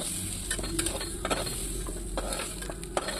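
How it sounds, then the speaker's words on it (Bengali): Drumsticks (moringa pods) fry in mustard oil in a wok, a constant close sizzle punctuated by repeated scraping clinks of a spatula stirring them at an uneven rhythm, with no voices. "নাড়াচাড়া করে ভেজে নিচ্ছি।"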